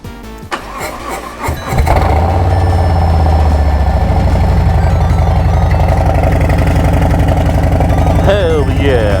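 Motorcycle engine cranked and fired after a few seconds of starter noise and clatter, then settling into a loud, steady running idle close by, with a short rev toward the end.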